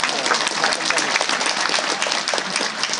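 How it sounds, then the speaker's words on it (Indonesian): An audience at an Indonesian religious lecture applauds, a dense, steady wash of clapping from many hands that fills the whole moment. "Tapi nggak cukup cuma tepuk tangan saja"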